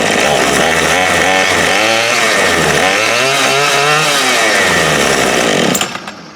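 A 2016 Murray M2510 25cc gas string trimmer engine runs loud and close, its buzzing two-stroke note rising and falling in pitch as the throttle varies, then cutting off abruptly at the end.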